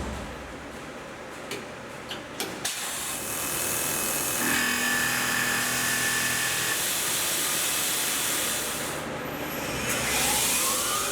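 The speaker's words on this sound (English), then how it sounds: "3D adaptive with the 1/4 inch 3-flute variable flute end mill from Lakeshore Carbide, maxing out our RPM on this machine at 7500" A CNC mill runs a 3D adaptive cut with a 1/4 inch 3-flute variable flute carbide end mill at 7500 RPM, with a few clicks followed by a loud sustained cutting whine and hiss that holds steady near the machine.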